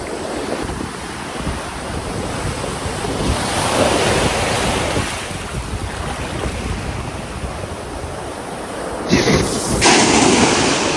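Strong surf rolls in continuously at Dubai Sunset Beach, a loud, steady wash of breaking ocean waves with wind buffeting the microphone, swelling around the middle and again near the end.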